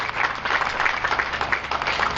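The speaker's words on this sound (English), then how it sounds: "if we can give a great round of applause to both Hank and to Elliot and to JR." Audience applause at an outdoor community tree lighting ceremony in Avenel, a dense, even wash of many hands clapping at moderate distance, continuous with no talk.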